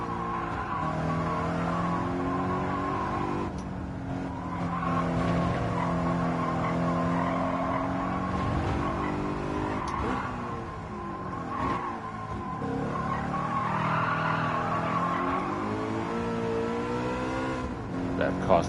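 A BMW M3 in Gran Turismo 7 on the Autopolis circuit, its engine droning and shifting pitch under braking with tire squeal and skidding, loud and continuous, while people talk over it.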